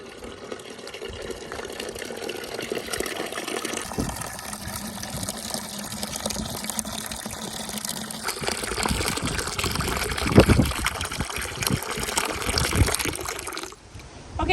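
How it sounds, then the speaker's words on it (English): Water from an outdoor tap at a rural school compound gushes steadily into a container for several seconds, the flow changing tone as it fills, with wind noise throughout before it abruptly stops near the end. "we're done with our water. You saw me just close the tap right now."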